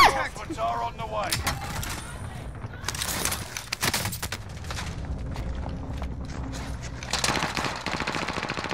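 Call of Duty Warzone gunfire on the Fortune's Peak map, with several short bursts of shots scattered through a busy game mix while players talk over it.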